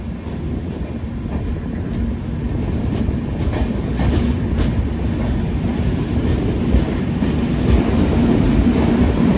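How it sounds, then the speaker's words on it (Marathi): The Mandovi Express between Mumbai and Goa rolls along steadily, heard from inside a coach as a loud continuous rumble with rhythmic clickety-clack of wheels over rail joints and no one talking. "इतकं भारी वाटणार बघा ट्रेन की ती एकदम आरामात चालू आहे"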